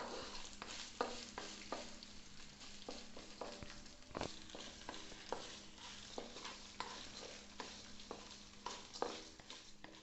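Ginger and green chilies frying in a pan for lemon rice, a steady soft sizzle broken by repeated scraping stirs of a spatula, close and fairly quiet with no talking.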